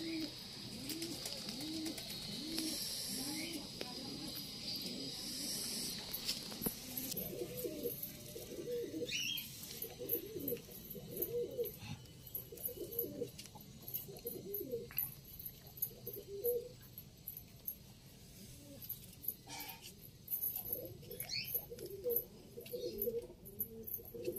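Pigeons of the pure Lambadi breed coo in a loft, soft rhythmic throaty calls repeating in quick bursts over a quiet background, with a few higher chirps mixed in.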